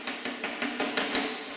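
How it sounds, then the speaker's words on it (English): A hammer and dolly tap out unevenness in a steel body panel on a turbocharged four-wheel-drive Austin Mini GT-Four: a quick, steady run of about eight close, sharp metallic knocks with no talking. "all it needs is a quick go round with a hammer and dolly just to take out any unevenness"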